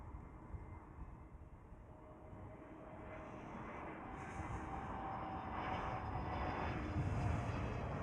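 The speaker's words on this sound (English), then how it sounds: "With the A321 Neo." A TAP Portugal Airbus A321neo jet at Amsterdam Schiphol airport, its engine roar building steadily from a distant rumble to a louder broad whoosh as it nears.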